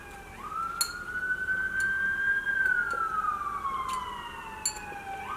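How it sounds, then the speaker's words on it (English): Emergency siren wailing at a moderate distance, a long sweeping tone that rises, holds and slowly falls, with a few faint sharp clicks over a low background hum. "Listen to those sirens."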